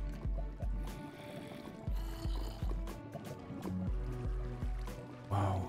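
Bubbling, gurgling water in the Minecraft video game, a steady series of low rhythmic gulps and bloops repeating about every half second, close and moderately loud.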